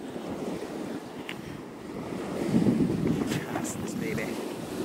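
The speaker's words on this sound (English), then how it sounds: "Pretty windy over here." Strong wind buffets the microphone in a continuous roar at the shore of Long Island Sound's North Shore, swelling midway, with faint surf and a few distant tones behind it.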